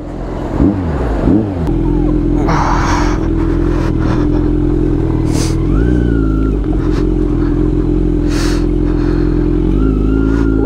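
A 900 superbike idles and revs through an off-road water crossing on a mountain route, its engine droning loudly and steadily throughout, with brief throttle blips near the start and a few splashy bursts along the way.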